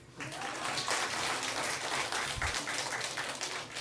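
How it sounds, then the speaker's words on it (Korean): Congregation applause during a Christmas church service, a dense steady wash of clapping filling the room at even loudness throughout, with faint background murmur. "박수를 좀 크게 쳐주세요."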